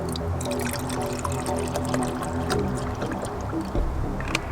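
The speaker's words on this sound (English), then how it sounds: "take some of that crappy water that we harvested from Turkey Creek and pour it in another glass" Smelly creek water pours into a glass in a steady, close splashing and trickling stream, with small drips and clinks throughout and no talk.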